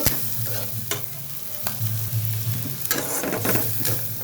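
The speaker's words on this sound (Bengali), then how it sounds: "দিয়ে দিচ্ছি মরিচের গুঁড়ো দিয়ে দিচ্ছি ধইনার গুঁড়ো এখন এগুলো একসাথে ভাজা ভাজা করে দেব" Chili powder and coriander powder frying together with turmeric paste in a pan for a prawn and taro stolon curry, stirred with scraping strokes over a continuous sizzle, close and loud, no voices.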